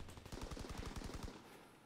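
Rapid automatic gunfire in Call of Duty WW2 on a mountain map: a fast string of about a dozen loud, close shots that stops abruptly after a second and a quarter.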